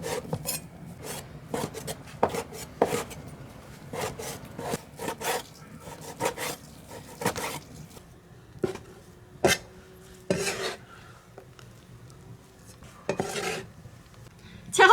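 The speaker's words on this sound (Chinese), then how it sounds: "猪肉全都切成丁儿" A knife chops pork belly and lean pork into small cubes on a wooden board in a home kitchen, giving irregular, close taps and scraping strokes, some in quick bursts and others spaced apart, with no talk.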